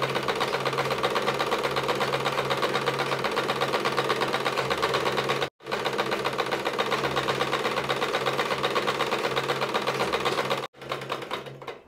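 A sewing machine stitching clothes runs in a fast, even mechanical clatter, close and continuous, stopping briefly twice before starting up again.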